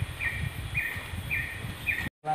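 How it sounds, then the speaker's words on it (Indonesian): A forest bird at the foot of a mountain gives four evenly spaced, clear calls over a low rustling woodland background, followed by a brief cut to silence. "Tuh ada suara burung."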